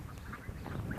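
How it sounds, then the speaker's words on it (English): Ducks quack at a rural farm in mountainous countryside, a few nasal calls at moderate distance over outdoor background noise. "and here ducks"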